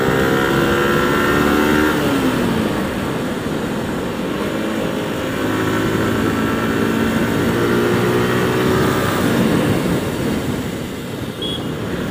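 Motorcycles fitted with loud aftermarket exhaust pipes drone continuously on a city flyover, a loud, steady engine roar with shifting revs and passing traffic throughout.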